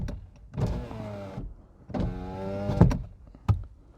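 Driver side power window motor on a Toyota Aqua running with the car switched off, two separate close whirring runs, each lasting under a second, each ending with a soft thunk as the glass stops.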